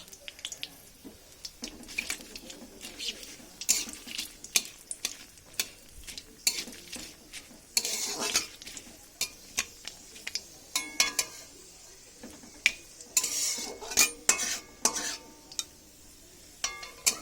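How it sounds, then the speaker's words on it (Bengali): Whole spices, dried red chillies and a bay leaf fry in oil, a soft sizzle under repeated scraping and clinking strokes of a spatula against the pan, close and fairly quiet. "ফোড়নের সব কিছু ভালো মতন ভাজা হয়ে গেছে।"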